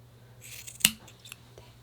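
Scissors close once with a crisp snap while cutting fabric for a snowman doll, framed by soft rustling of the material and a faint second snip shortly after.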